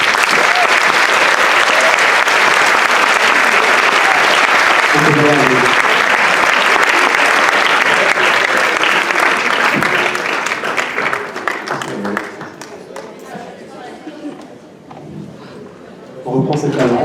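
Strong audience applause at a stage hypnosis show during a Miss Villeurbanne election, loud dense clapping with brief voices that thins out near the end before a final burst.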